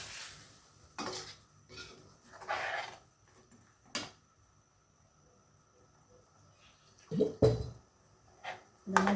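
A pot of prawn curry with three quarters of a cup of coconut milk is cooked and stirred: sparse spoon scrapes and metallic clinks against the pot, with a faint simmer between them, some louder knocks near the end.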